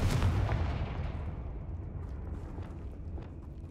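A fiery Confringo spell blast in Hogwarts Legacy, a loud booming burst that rumbles and slowly decays over several seconds, with no talk over it.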